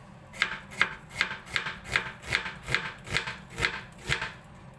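Onion being chopped with a knife on a board for a beef kilawen dish, about eleven evenly spaced crisp chops in a steady rhythm, close and clear with no talking.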